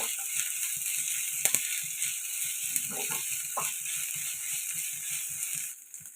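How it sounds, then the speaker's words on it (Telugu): Ginger garlic paste frying in a pan for a tomato curry with urad dal vadiyalu gives a steady close sizzle with light stirring clatter throughout, fading away at the end. "అల్లం వెల్లుల్లి పేస్ట్ కూడా ఫ్రై అయిపోయిందండి"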